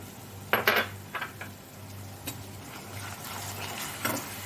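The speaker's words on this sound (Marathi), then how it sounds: "कांदा छान परतायला हवा यातच बारीक चिरून ठेवलेले टोमॅटो घालते" Finely chopped tomatoes are tipped into a pan of frying onions for a Kolhapuri dry chicken dish; a few close metallic clatters of utensil on pan ring out, followed by a soft steady cooking sizzle.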